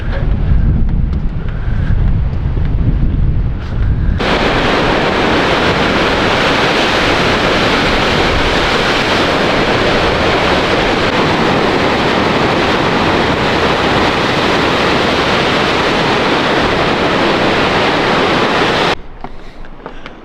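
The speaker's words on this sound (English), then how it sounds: "how powerful those waves are and just crashing like full into the ocean" Powerful ocean waves crash against the shore as a steady, loud roar of surf mixed with wind buffeting the microphone, running almost continuously and dropping away near the end.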